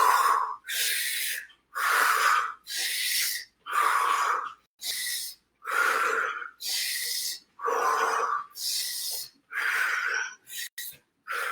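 Energizing breathing exercise: about a dozen forceful, rhythmic breaths, each a loud breathy rush of inhaling and exhaling, with brief gaps between them, close and alone.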